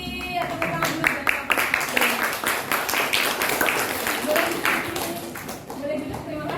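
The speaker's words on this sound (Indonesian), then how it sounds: "Tepuk tangan dulu buat" A classroom of middle school students claps for their teacher, a burst of many hands with distinct sharp claps that thins out and fades, while voices talk over it.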